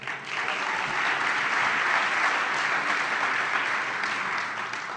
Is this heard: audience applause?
yes